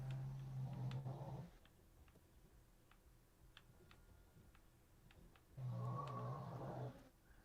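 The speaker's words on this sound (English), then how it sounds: "listen to my dog snore" A dog snoring nearby in two slow, heavy rumbling breaths several seconds apart, with quiet room ambience and faint ticks in the gap between them.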